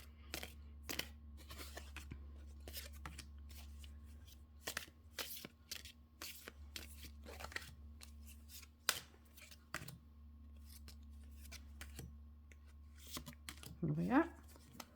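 Tarot cards being shuffled by hand, crisp intermittent riffles and slaps close up over a low steady hum, quiet overall, ending with a short rustle.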